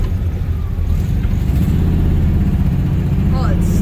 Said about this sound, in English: It's stalling because the idle is messed up.